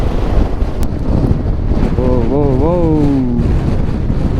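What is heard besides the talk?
strong wind blowing on a motorcycle ride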